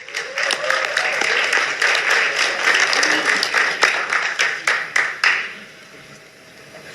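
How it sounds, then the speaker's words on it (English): Crowd applause and cheering at a boxing press conference, with sustained clapping and whoops, loud and steady for several seconds before tapering off into scattered claps and room tone. "Please make some noise for my guy"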